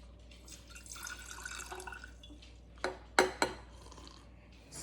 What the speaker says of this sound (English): Start by pouring the hot water into the jar.